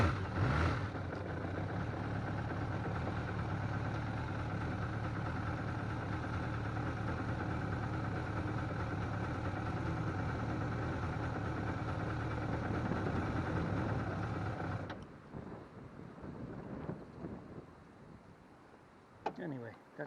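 A vehicle engine idles in gear, a steady low droning rumble heard close for about fifteen seconds before cutting off, leaving quieter background noise with faint movement.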